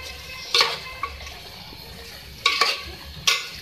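A spoon stirs hotel-style sabzi in a pan, with three distinct clanking scrapes against the metal over a quiet low sizzle, close by and without any voices.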